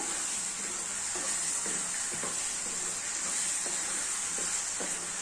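Quail eggs are being stirred into a spicy biryani masala in a kadai, a steady sizzling hiss with soft intermittent scraping of the spoon against the pan, close and continuous without voices.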